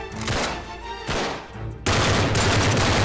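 Bursts of rapid gunfire in the video game Uncharted 3: Drake's Deception crackle loudly in quick succession, building into a dense, sustained volley by the end, with no voices.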